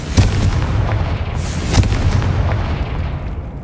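Confringo blasting spells explode in Hogwarts Legacy, two heavy booming blasts about a second and a half apart, each trailing off into a low rumbling roar.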